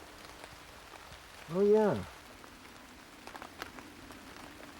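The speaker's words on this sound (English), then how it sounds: "Well, you got the rain you asked for." Rain patters steadily on leaves outdoors, a soft continuous hiss with scattered drop ticks, while a voice speaks briefly over it.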